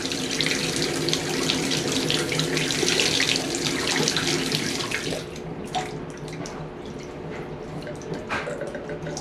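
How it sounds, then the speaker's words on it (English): Water runs strongly from an American Standard bath faucet after a drip repair, a loud steady splashing stream that cuts back after about five seconds to a lighter, uneven trickle with scattered splashes, no voices. "Okay, water's on."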